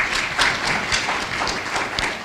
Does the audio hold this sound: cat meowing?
no